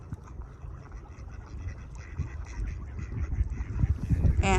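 Ducks quack and honk at a lakeside, a busy cluster of calls building louder toward the end over low rumbling background noise.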